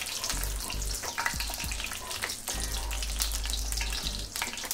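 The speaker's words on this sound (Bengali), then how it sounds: "মরিচটা একটু মানে ভাজবো, সুন্দর করে ভাজতে হবে" Dried red chillies, cut small, frying in a pan for a mashed ridge gourd bhorta, a steady close sizzle and crackle with bursts of stirring and scraping throughout, no voices.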